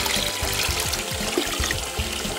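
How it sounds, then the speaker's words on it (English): Tap water running into a toy doll bathtub, a steady splashing trickle that continues unbroken, close and fairly loud, with no voices. "Just run it under the water."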